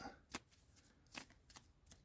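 Tarot cards being shuffled in short, crisp riffles that come a few times in quick succession, close and quiet, with no talking.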